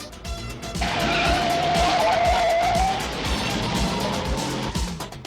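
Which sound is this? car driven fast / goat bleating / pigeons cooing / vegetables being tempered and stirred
car driven fast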